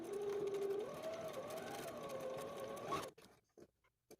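A sewing machine runs a straight stitch along fabric for a cupcake pincushion, a steady close whir with a rising, wavering motor tone that cuts off abruptly near the end, leaving faint handling clicks.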